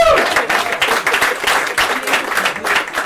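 An audience at a South Side aldermanic candidates' meet and greet gives a round of applause, dense steady clapping filling the whole stretch with some voices mixed in.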